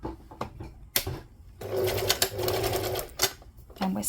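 A sewing machine with a flat presser foot stitches through layered fabric of a turban in a steady, fast mechanical whir. It runs in short bursts, then in a longer sustained run.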